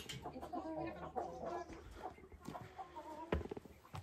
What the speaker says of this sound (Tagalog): Inahin na manok.